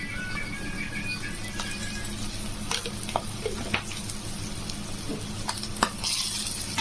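Ginger frying in a pan for ridge gourd rasam, a steady close sizzle with intermittent scraping stir strokes, no talking.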